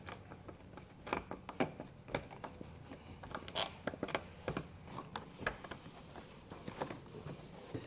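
Plastic underbody panel fasteners on a 2019 Chrysler Pacifica are twisted and pulled loose, giving a close, quiet series of irregular clicks and ratcheting snaps with soft scraping between them, no speech.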